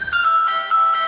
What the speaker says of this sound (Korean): 갑자기 제 휴대폰이 울리는 겁니다.